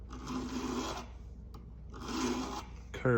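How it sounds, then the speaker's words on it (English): Rasping strokes of a chainsaw file cutting a curved slot into the liners of a handmade slip joint pocket knife, two long close filing passes separated by a pause, with a brief sharper scrape at the end. "use this chainsaw file to go the depth we want to go to make the curve"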